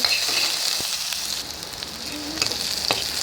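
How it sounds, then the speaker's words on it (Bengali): Raw garlic fries in mustard oil for a sidol bharta, a close, steady crackling sizzle with a few brief utensil ticks and stirring sounds throughout. "কাঁচা রসুন এই সেদলের ভাতটাতে দেওয়ার জন্য আবার এগুলো আকালির মতো ভাজি নিচ্ছি এই সরিষা তেলে"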